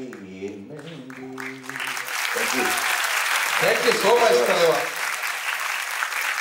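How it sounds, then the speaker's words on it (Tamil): An audience bursts into steady, dense applause after a music academy's annual performance, the clapping rising over the last sung notes and continuing loudly for several seconds while someone speaks briefly over it. "கைத்தட்டல் வந்ததுன்னு தெரியும்,"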